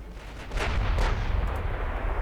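Naval guns of warships fire in Ultimate Admiral Dreadnoughts during a long-range battle: a dense, continuous rumble of heavy booms that builds after the first half second and holds loud and steady to the end.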